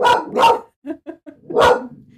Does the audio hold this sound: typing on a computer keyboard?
no